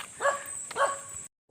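A couple of dogs bark at a gate, two short barks close by over a steady background hum before it cuts to near silence.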